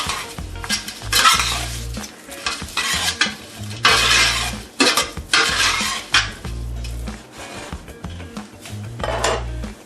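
A spoon stirs oregano, parsley and seasonings into beef for stew in a sizzling pot, with repeated scraping clinks of metal on cookware in irregular bursts over a steady frying hiss, close and loud.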